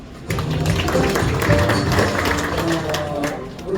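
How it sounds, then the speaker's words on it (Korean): A crowd claps steadily in a dense wash of applause at a Korean arts association year-end party, with some voices faintly underneath, lasting a few seconds. "뜨거운 박수 부탁드리겠습니다"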